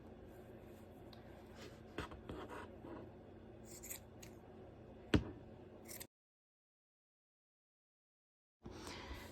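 Scissors snip through yarn loops on a crochet pompom, giving close, quiet clicks and scratchy rustling with one sharp cut, then a silent gap before the soft handling resumes.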